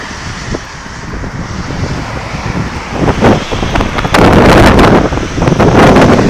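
Strong wind on a sunny day rushes and buffets an HTC Desire phone microphone, swelling louder in gusts toward the end, with no voices.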